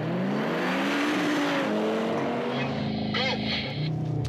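A car on a race-start launch-control start accelerates hard in a motoring show. The engine's revving tone climbs rapidly, loud and close, with voices over the engine noise.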